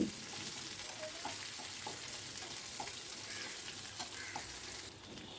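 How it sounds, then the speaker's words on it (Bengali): Chopped boiled onion stirred in a hot cooking pan, a steady close sizzle and frying hiss with soft scraping strokes of the spoon throughout, no talking. "সেদ্ধ করে রাখা পেঁয়াজ কুচিটাও দিয়ে দিলাম দিয়ে একটু নাড়াচাড়া করে নিচ্ছি"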